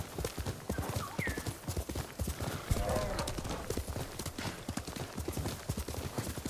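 Horse hooves in Ghost of Tsushima as the horse rides through grass. The hoofbeats clip-clop steadily at a galloping rhythm from start to finish, with a brief whinny early on and a voice faintly underneath.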